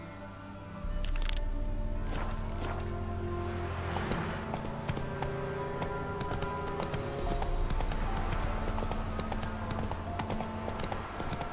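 Roach, the horse in The Witcher 3, trots with a steady rhythmic clip-clop of hooves that runs close and clear from about a second in to the end, over game ambience.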